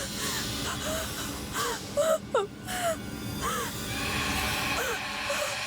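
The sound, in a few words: someone crying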